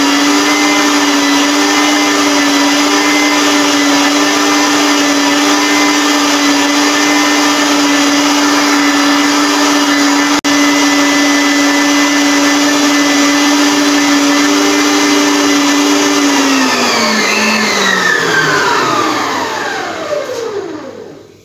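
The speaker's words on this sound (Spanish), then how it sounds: "Bien batido con toda la fuerza de nuestra batidora." An electric mixer runs at full power beating English pudding cake batter, a steady loud whine that holds for a long stretch, then winds down as the motor is switched off, with no voices.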